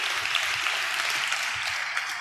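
A church congregation claps together in praise during a sermon: dense, continuous applause from many hands, moderately loud and sustained throughout.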